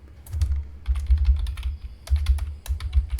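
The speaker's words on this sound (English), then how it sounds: "Here in the search button, you just type GBZ." Rapid bursts of keystrokes on a computer keyboard, typing a query into a search box, sound close and clear in uneven clusters with short pauses between them and no voices.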